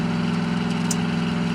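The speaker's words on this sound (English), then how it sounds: "There goes my Mercury Cougar." A Mercury Cougar's engine idles and rumbles steadily close by, a deep even drone with a brief hiss partway through and no voices.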